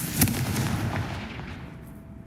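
The Confringo blasting spell in Hogwarts Legacy goes off in a single sharp explosive crack near the start, then fades into a rumbling, hissing decay, with no talk.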